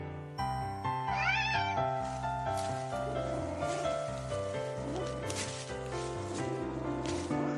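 A kitten lets out a short rising meow over a bed of soft music, followed by fainter mews further on.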